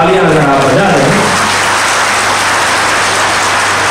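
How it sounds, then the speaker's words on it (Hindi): Loud, dense applause from an audience welcoming Swami ji at a gathering, a steady wash of clapping that follows a brief voice at the start and continues unbroken. "स्वामी जी के लिए, उनके स्वागत के लिए एक बार जोरदार तालियां अगर आप बजा रहे हैं।"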